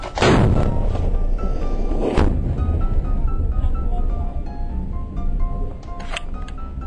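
Two sharp gunshots crack in quick succession near the start, followed by rumbling action noise and another shot near the end.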